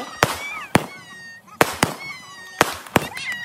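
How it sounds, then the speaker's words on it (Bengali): Colourful fireworks burst in the sky at a Kartik puja celebration, several sharp loud bangs in uneven succession with whistling trails and voices in between. "দেখো কত রঙে রঙে বাজি ফাটছে"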